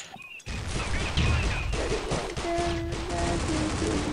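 Rapid bursts of gunfire in the online shooter Critical Ops during a ranked 6v6 match, dense and loud throughout, mixed with game effects and brief tones.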